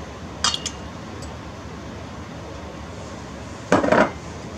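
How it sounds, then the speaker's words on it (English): Three eggs going into yellow cake mix in a bowl: two brief, crisp clinks a few seconds apart, with quiet room hiss between them. "And to that, we're going to add 3 eggs."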